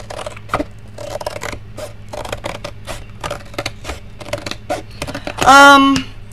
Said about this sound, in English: Gotta cut this box up.